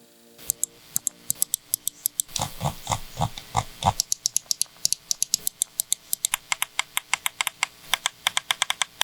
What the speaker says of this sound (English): here's how the mouse sounds in general